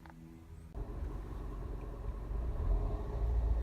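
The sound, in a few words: Honda CR-V 2.0 i-VTEC engine running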